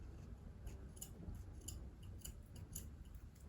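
Scissors cutting felt letters for a DIY holiday banner, giving several soft, quiet snips at a steady pace, close and faint, with no talking.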